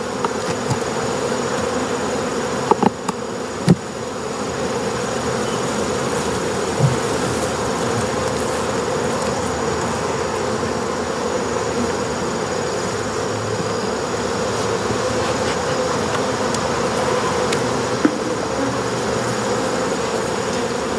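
Honey bees drone in a steady, dense buzz around an open hive during a colony split, close and continuous with a few faint clicks and knocks of hive equipment.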